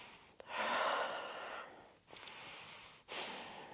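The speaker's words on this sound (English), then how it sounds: "Ujjayi breath, if you know it, strong breath." Ujjayi breathing through the nose during a slow vinyasa yoga flow: three long, hissing, ocean-like breaths, close and steady, each separated by a brief pause, with no talking.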